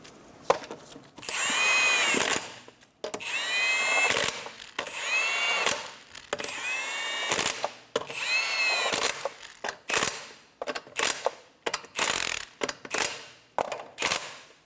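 A power tool spins lug nuts tight on a 2007–2012 Nissan Altima wheel: about five whirring, ratcheting bursts in quick succession, followed by shorter clicks and clatter of handling.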